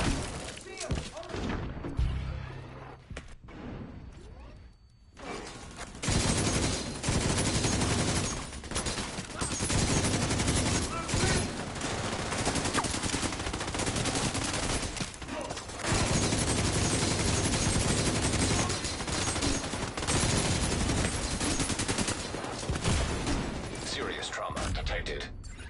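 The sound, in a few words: airburst weapon fire in a video game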